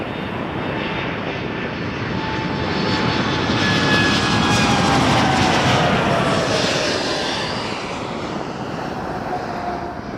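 An airliner passes at Toronto Pearson Airport with a loud, continuous engine roar that builds to a peak around the middle and slowly fades, with a faint descending whine over the rumble.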